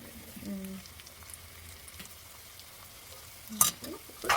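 Bitter gourd masala for a karela fry frying in a pan, a soft steady sizzle with faint stirring scrapes and a couple of louder clatters near the end, no talking.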